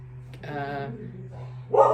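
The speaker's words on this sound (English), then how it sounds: "neighbours' dogs are going off" Neighbours' dogs bark nearby in a short burst: one drawn-out yelping bark followed by a louder sharp bark at the end, clear and close, with no talking.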